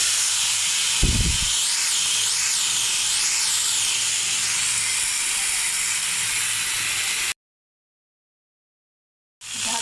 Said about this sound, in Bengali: একই তেলে কেটে রাখা আলু ভেজে নেব